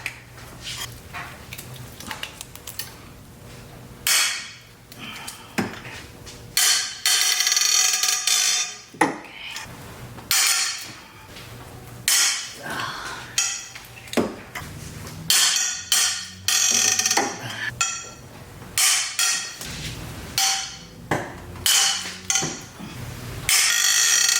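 A wrench extended with a pipe breaks loose the head bolts on a Toyota Camry engine during a head gasket replacement, with repeated loud ratcheting clicks, metallic clanks and creaks in irregular bursts close to the microphone.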